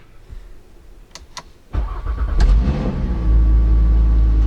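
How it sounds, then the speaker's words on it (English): An Audi RS3 engine running on about E83 fuel cranks briefly and catches, then settles into a steady, loud low idle rumble close by. "Car started and now will sit and idle."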